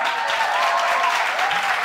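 Sustained applause from a live audience, a dense, steady wash of clapping at close range that holds evenly throughout, with no talking over it.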